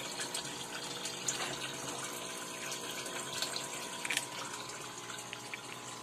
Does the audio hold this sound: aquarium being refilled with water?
yes